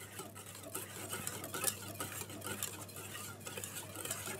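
Eggs and sugar are gently stirred in a bowl for chocolate brownie batter, giving a soft, continuous swishing and light scraping that stays faint and steady throughout.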